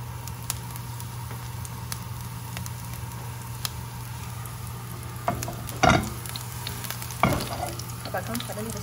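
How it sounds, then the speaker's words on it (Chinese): Oil heats in a wok as chopped scallions are added, giving a soft, steady sizzle under a low hum, with a few sharper crackles and spatula scrapes near the end. "我们现在锅中呢加入一点油，然后呢我们撒入一点葱花"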